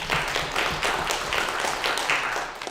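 A small crowd claps for a child who took third place in a 100-meter dash at a school track meet, with steady, fairly close applause under faint background noise.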